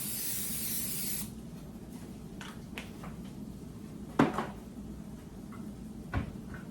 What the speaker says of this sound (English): one thing I do like to do is to spray the inside of my pan